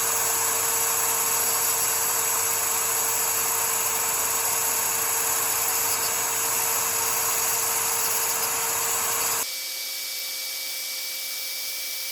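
A high, steady whine of a router with an 1/8 inch down spiral bit cutting wood an 1/8 inch deep runs continuously for several seconds, then cuts off and leaves a quieter electrical hum.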